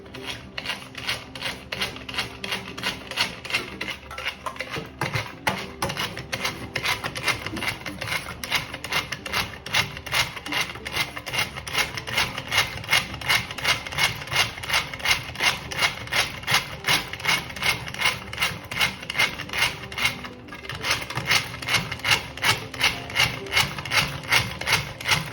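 Tuna cutlet mixture being beaten by hand in a bowl, a fast, steady rhythmic slapping and scraping that runs continuously and close, with a brief pause near the middle.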